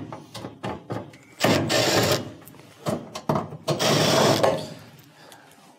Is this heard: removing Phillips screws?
yes